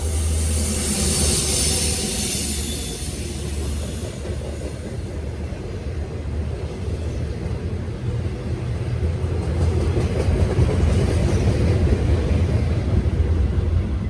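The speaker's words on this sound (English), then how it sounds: "The MA01 is rolling through with NSGP 38-2 number 5645" A Conrail Shared Assets freight job led by Norfolk Southern GP38-2 locomotive 5645 rolls past at Bound Brook, New Jersey, a steady close rumble of engine and rolling wagons with rail noise, continuous and loud throughout.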